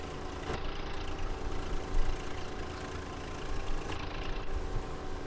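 Tractor engine in Farming Simulator 19, a Swaraj 855 or New Holland 3630 working a silage field, gives a steady mid-to-low idling drone that holds evenly throughout with no talk over it.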